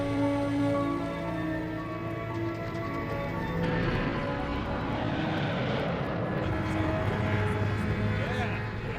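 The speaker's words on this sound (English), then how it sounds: "Flight attendants, please prepare for takeoff." Airliner engines run steadily at a loud, sustained roar as the aircraft starts its takeoff on a flight to Australia, with the noise swelling partway through and lasting to the end.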